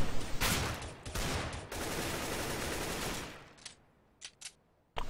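Sustained automatic gunfire in CS:GO during a Turkish championship quarter-final match, a dense loud burst lasting about three seconds, then trailing off into a few isolated sharp shots.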